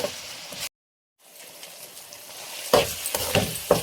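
Tomatoes and green chillies with cumin cooking in a pan on a low flame, a soft steady sizzle with brief stirring scrapes, close by and broken by a short silence.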